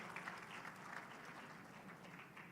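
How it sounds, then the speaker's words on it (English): Steady round of applause from an audience at a media and entertainment industry report release and awards event, honouring the dignitaries on stage; dense, even clapping that holds throughout without voices. "can we have a huge round of applause for all of them?"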